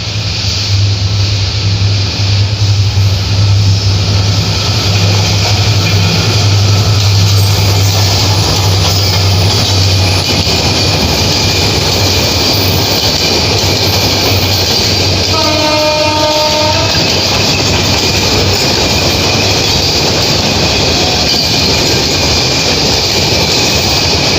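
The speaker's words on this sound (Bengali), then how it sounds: "ট্রেন একটা আসতেছে, আইসা পড়ছে অলরেডি।" A train passes close along the tracks, its loud continuous rumble and wheel clatter dominating, with a sharp multi-tone horn blast about two-thirds through.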